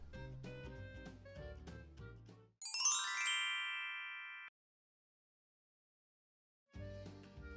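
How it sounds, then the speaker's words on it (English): Bright, chiming ringtone of an incoming phone call, a short burst of bell-like tones that cuts into background music, fades, then leaves a pause of silence before the music returns. "I've got a call coming in."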